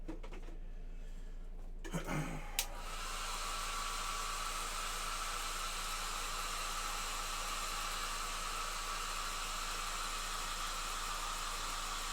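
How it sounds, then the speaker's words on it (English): A hair dryer switches on after a couple of soft bumps and then runs with a steady, loud whooshing roar. "I'm gonna hit the hair dryer though."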